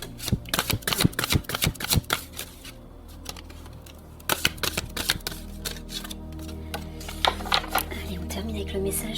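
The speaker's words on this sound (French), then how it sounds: "Alors là, je sors 3 cartes" Cartomancy cards being shuffled and drawn from a deck, three cards pulled out, heard as a series of close, crisp flicks and snaps in uneven bursts with short pauses between them.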